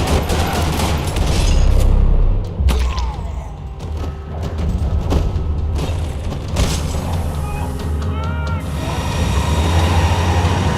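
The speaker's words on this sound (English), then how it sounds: "Another parking lot rattling with gunfire." Video game gunfire in Max Payne 3 during a shootout in a parking lot, loud rumbling bursts and rattling shots layered with booming impacts and whizzing effects, with no talking.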